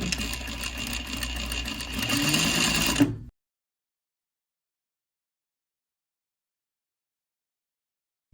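A sewing machine runs a steady, continuous stitch down the seam of a knife-pleated Civil War skirt for about three seconds, loud and close, then cuts off into silence.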